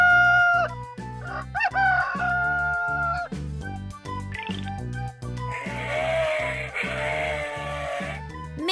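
A loud rooster crow rings out midway through a lively children's animal song, with clucking fowl sounds and steady musical accompaniment throughout.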